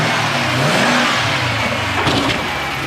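A Dodge Charger police car from the USA, started after sitting unused for five years, revs its engine steadily and loudly up close, with a brief higher surge near the end.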